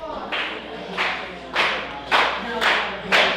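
Wrestling crowd claps in unison at an independent match, five or six slow, evenly spaced loud claps echoing in an arena over low crowd noise.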